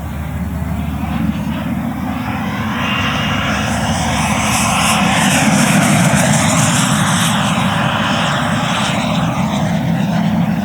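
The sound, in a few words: JETFAN-110 Black Horse Viper RC electric jet flying at full speed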